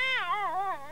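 A cat lets out one drawn-out, wavering meow, warbling up and down in pitch, close and fairly loud with no talk over it.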